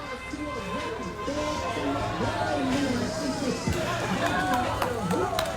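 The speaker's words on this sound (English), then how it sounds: "large crowd spread out over many blocks" A large crowd spread over many blocks of a Milwaukee street makes a continuous murmur of many voices and bustle, with a nearby person speaking over the top.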